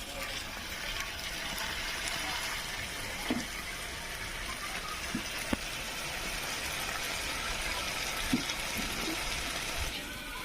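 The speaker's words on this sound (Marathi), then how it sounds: "आता मी पाणी टाकून घेते" Water is poured into a prawn curry cooking on a wood-fired clay stove, a soft continuous gush and splash heard close and fairly quiet, with a few faint clinks along the way.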